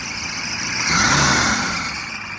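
A Squarebody truck engine runs close by, its broad mid-range rumble swelling briefly as if revved and then settling back, with no voices over it.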